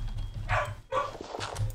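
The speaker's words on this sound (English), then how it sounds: "The dog is barking its lungs out right now." A dog barks hard, a few loud yaps with short gaps between them, set against a quiet background.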